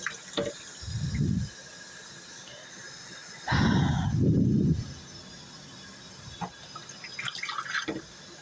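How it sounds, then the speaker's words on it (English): Water pours from a bottle onto a hand in two separate streams, the second longer, splashing close to the listener, with faint drips and small handling noises between them. "So I'm just going to try to pour this onto my hand."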